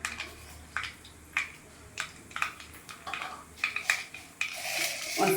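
Cumin seeds go into hot oil, already holding mustard seeds, in a pan for bitter gourd palya. Close metal utensil taps and clinks repeat, then a soft crackling sizzle swells near the end.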